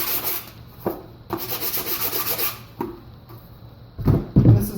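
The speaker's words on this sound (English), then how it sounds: "Sand off the front." Sanding on a textured homemade rock climbing volume, with several short rasping strokes separated by pauses and a louder burst of rubbing near the end, close by with no talking.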